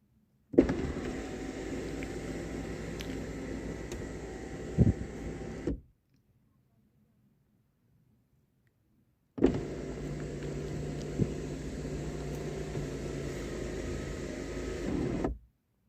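Electric sunroof motor of a Tata Nexon XZ+ (O) petrol SUV running in two steady whirring bursts of about five seconds each, separated by a silent pause and recorded close inside the quiet cabin.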